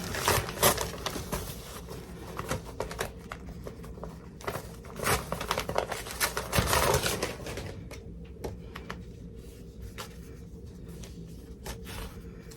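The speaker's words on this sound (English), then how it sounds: "I'm going to just pull off this tearaway." Tearaway embroidery stabilizer is pulled off an in-the-hoop appliqué apple mug rug after stitching, giving a run of close, dry crinkling and ripping bursts that ease off into quieter rustling.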